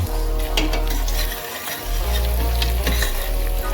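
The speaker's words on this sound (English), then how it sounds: "And now we need to roast this little bit." Whole spices and ingredients roasting and being stirred in a hot pan for an Indian mutton curry, a steady close sizzle with scraping stir strokes and a brief dip partway through.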